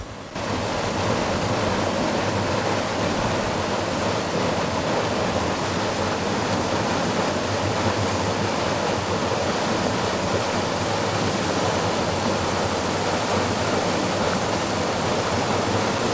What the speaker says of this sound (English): at the left-hand side, we've got a weir